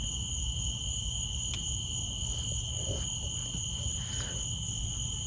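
Crickets and other insects chirp steadily at night in a cemetery, a dense continuous trilling backed by a low rumble, with no voices present.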